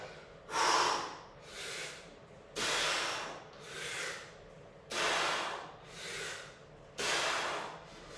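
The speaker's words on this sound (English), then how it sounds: "Breathing in. Breathing out." Heavy breathing during a hard festive workout: six loud, close breaths in a slow steady rhythm of long, airy inhales and exhales, each lasting about a second.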